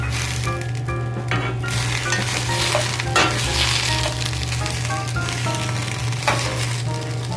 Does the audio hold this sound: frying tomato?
yes